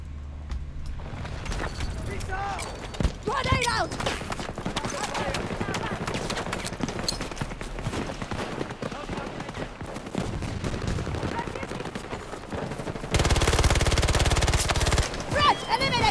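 Rapid AC9 gunfire bursts crackle in Battlefield 2042, dense and loud with repeated sharp shots over game noise, a heavier sustained volley near the end.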